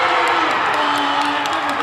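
A crowd at a boys varsity high school basketball quarterfinal cheers and whoops, a loud continuous roar with a commentator talking over it.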